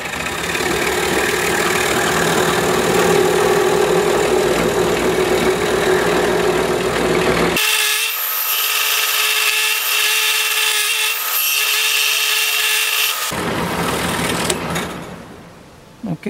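A powered saw cuts slowly through wood to shape a G clef ornament, a steady loud buzzing drone throughout with a sharp tonal shift midway, then trailing off near the end.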